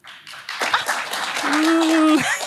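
Live audience at a PodParis 2024 comedy podcast show in Paris claps in response to a question, a dense patter of hands swelling and holding steady for a couple of seconds, with a voice calling out over it.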